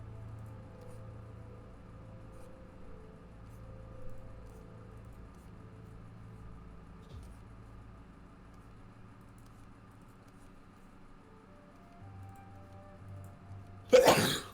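A sudden sharp sneeze bursts out at the very end after a long quiet stretch of faint low hum.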